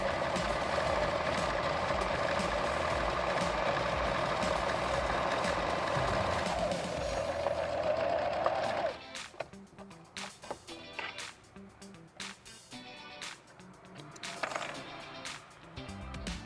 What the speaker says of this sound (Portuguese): a máquina passa por cima dele sem quebrar a agulha